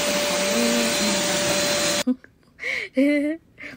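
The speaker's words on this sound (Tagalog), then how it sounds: "Tapos, tinry ko mag-vacuum." A vacuum cleaner runs loud and steady with a high whine for about two seconds, then cuts off, and a person starts talking.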